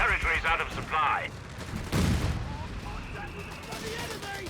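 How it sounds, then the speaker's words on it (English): Incendiary rifle grenade in Company of Heroes 3, a single sharp burst with a short crackling tail amid battle noise, following a stretch of other game sounds. "another incendiary rifle grenade there"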